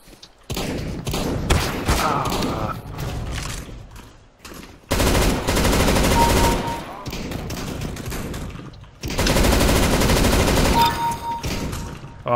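Video game machine gun fire from a Negev M249 in CS:GO comes in long sustained bursts separated by short pauses, loud and dense throughout.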